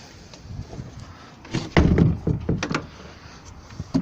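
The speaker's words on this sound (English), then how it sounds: "Doors." Doors in a backyard shed bang and thud shut in a quick cluster of sharp knocks and clunks, close and fairly loud after a quiet start.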